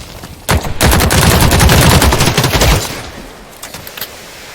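Rapid automatic gunfire from a weapon fired from the hip in the shooter game The Cycle: Frontier, a loud dense burst lasting about two seconds, then a few faint scattered shots as it trails off.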